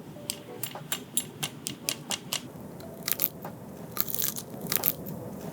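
Repeated crisp crunches of teeth biting into glazed Korean fried chicken wings, a steady series of sharp bites close up over low background noise.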